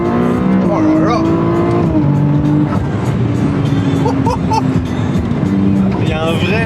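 Ferrari 296 GTS driven in race mode on the road: a loud engine note that climbs and drops with quick gear changes, heard close from inside the cabin while people talk over it.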